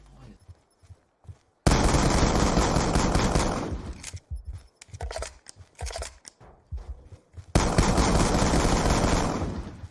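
Automatic weapon fire in Call of Duty: Black Ops 2 multiplayer comes in long sustained bursts, with choppy shorter volleys between them and a renewed loud burst near the end.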